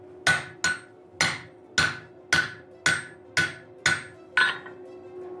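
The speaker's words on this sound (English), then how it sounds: "Right, so I use a hot chisel." A hammer strikes a hot chisel cutting through hot iron in a blacksmith's forge, nine evenly spaced ringing metallic blows, close and loud, with a steady hum behind.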